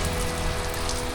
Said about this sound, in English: it wasn't supposed to rain today